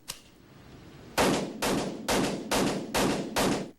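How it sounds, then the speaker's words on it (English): TEC-9 pistol firing rapidly: one faint early shot, then six loud, sharp reports in a quick, fairly even rhythm, close and alone with no talk. "The pistol fires as fast as you can pull the trigger."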